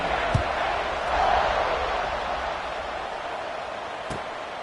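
Steady, diffuse crowd murmur fills a stadium in a football video game after a score, a broad even buzz running throughout with a couple of faint thumps.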